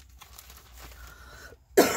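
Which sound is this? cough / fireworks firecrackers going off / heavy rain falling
cough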